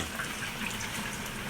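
Water pours into a pot for cooking rice, a brief, soft, continuous splashing trickle heard close up without any talk.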